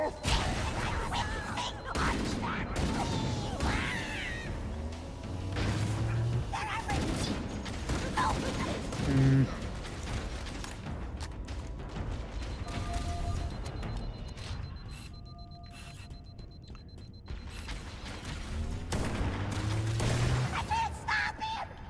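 Gunfire and weapon clatter in Halo: Combat Evolved, mechanical rattles and bursts over a dense layer of game noise and tones, moderately loud and continuous throughout.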